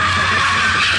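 Drift car at the UB Drift Show 2011 in a small tournament: a loud, sustained, hissing tire screech from skidding, close and unbroken for about a second, with no talk.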